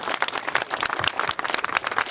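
Crowd at an outdoor protest rally in Telford applauding, a dense, steady patter of many hands clapping at moderate distance with no speech over it.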